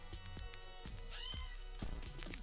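A kitten meowing in the video game There Is No Game, several short, high, plaintive mews in quick succession over a quiet background, close and clear with no talking.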